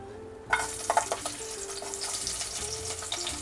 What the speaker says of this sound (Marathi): कांदा टाकू आपण भाजायला आता